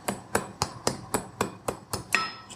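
Nine evenly spaced hammer blows ring out on hot iron while a forged Viking-style key is bent, each strike sharp and close with a short metallic ring, no voices.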